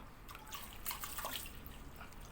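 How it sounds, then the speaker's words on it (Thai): Water pours out of a one-inch PVC pipe, a soft trickling splash with scattered drips, fairly close and steady over a quiet background. "เทน้ำออกก่อน"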